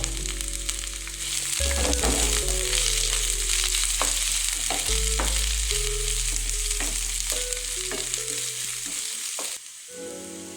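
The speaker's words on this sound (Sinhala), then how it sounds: "ඒ ටික පොඩ්ඩක් ලාවට fry වෙගෙන යනකොට ඒකට අපි කලින් කපාගත්තු බීනුල් ටික එකතු කරගමු." A few small pieces of cinnamon fry in hot oil in a pan for a Sri Lankan veg roti filling, a loud continuous sizzle with intermittent stirring scrapes and taps close up, no voices.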